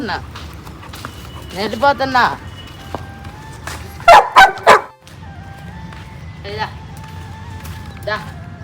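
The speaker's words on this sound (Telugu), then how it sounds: "ఒక డాగ్ వచ్చింది ఫుల్ బాగా ఇంజూర్ అయినట్టుంది పాపం బాగా ఏడుస్తుంది" An injured dog cries out in several high, wavering yelps and whimpers, the sharpest burst in the middle, while people talk nearby and a low background hum continues.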